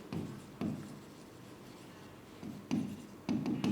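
Chalk or marker strokes on a board come in short scratchy bursts: two early strokes, a pause, then a quick cluster of strokes near the end, close and fairly quiet.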